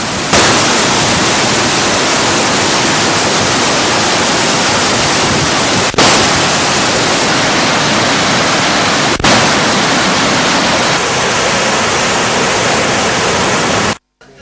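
Water gushing out of the five spill gates of the Inginimete Reservoir at 2,800 cubic feet per second, a loud, dense, unbroken roar close by with brief cuts.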